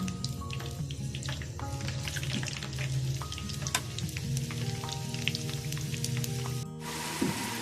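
Hand-cut McDonald's-style french fries frying in hot oil give off a continuous bubbling sizzle, with scattered pops and crackles and a faint low hum underneath, without talking.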